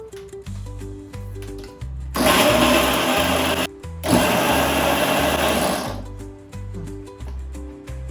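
A kitchen mixer grinder whirs loudly as it grinds pepper, ginger and cardamom into a paste, running in two strong bursts with a short pause between, while background music plays softly before and after.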